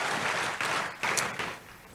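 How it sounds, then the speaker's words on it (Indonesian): Church congregation applauding during a worship service, a broad wash of clapping swelling in a few waves over two seconds at moderate distance. "Kasih tepuk tangan yang meriah untuk Tuhan Yesus."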